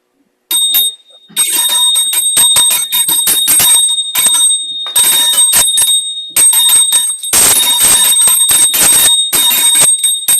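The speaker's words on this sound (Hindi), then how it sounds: "घंटी का अपना फायदा है, घंटी आपकी भी क्लीनिंग करेगी, आपके घर की भी क्लीनिंग करेगी, क्योंकि साउंड पूरी जगह जाएगी।" A small bell rung repeatedly during a meditation cleansing ritual, producing bright ringing strikes in irregular bursts with short pauses, loud and close, sustained for about ten seconds without talk.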